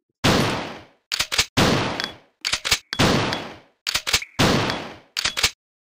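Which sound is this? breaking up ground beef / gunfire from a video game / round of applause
gunfire from a video game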